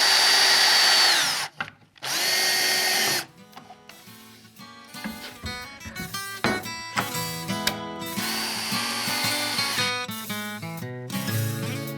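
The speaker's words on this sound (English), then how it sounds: "Then it's just a matter of driving in the screws." A power drill drives screws into a pocket-hole joint on a slide-out pantry, loud whining bursts of the motor followed by rising, stuttering runs as the screws bite and seat, close up with no talk.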